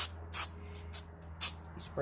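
Several short bursts of spray adhesive hiss from an aerosol can, spaced irregularly over a quiet background hum.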